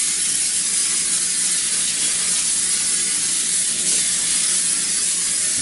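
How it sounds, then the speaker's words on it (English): Cooking spray hisses in one continuous, even burst for several seconds as it coats aluminum foil laid over a baking sheet, close and loud with no talking. "Now I'm going to use the aforementioned cooking spray and spray the foil down."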